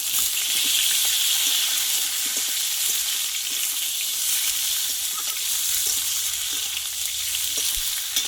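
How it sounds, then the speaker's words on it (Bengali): Chopped pointed gourd pieces fry in hot oil with a steady, dense sizzle throughout, with light stirring clatter underneath and no voices. "আর এখানে কেটে ধুয়ে রাখা পটলগুলো আমি এবার এই তেলে কষে নেবো"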